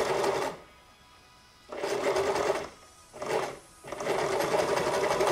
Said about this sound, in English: We're gonna sew down, and then we're gonna sew back, because that's how you make a knot.